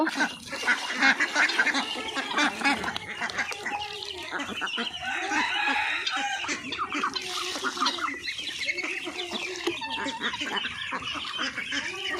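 Flock of village ducks and chickens at feeding time on a small farm, with continuous overlapping quacks, honks and clucks from many birds close by, busy and dense throughout.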